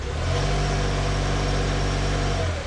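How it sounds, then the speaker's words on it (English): A 2007 Acura TSX with a 2.4 engine, check-engine light on and losing power, runs close up with a steady, continuous engine drone under light throttle, barely changing pitch and with no talk. "I'm gonna give it a little gas, see what it does."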